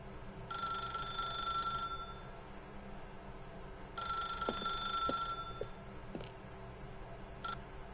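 A telephone rings in The Stanley Parable with two bright, trilling bursts separated by a pause, over a quiet ambient hum, followed by a few soft clicks as the ringing stops.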